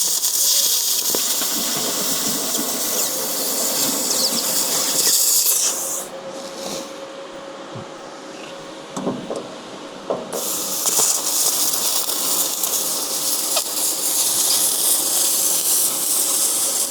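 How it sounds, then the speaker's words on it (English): A handheld XTool laser cutter slices through a weld on a steel dump trailer, giving a loud, steady hiss that drops quieter for a few seconds midway, then returns at full strength. "I'm just cutting through the weld."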